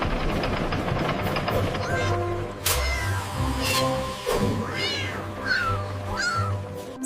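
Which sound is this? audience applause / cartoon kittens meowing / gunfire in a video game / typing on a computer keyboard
cartoon kittens meowing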